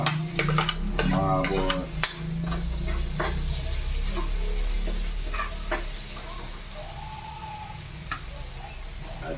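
Onions sautéing in a pan for ginisang ampalaya (bitter gourd), a continuous sizzle with clinks and scrapes of a utensil while someone talks over it.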